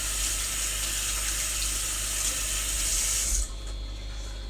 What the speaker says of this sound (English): Fill it with water now.